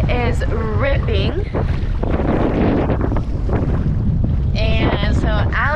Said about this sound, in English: So the wind is ripping.